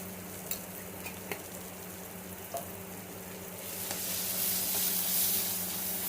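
Spiced potato and tomato chutney masala with chilli powder sautés in a pan, a low steady sizzle with occasional soft stirring taps that swells into a louder hiss toward the end.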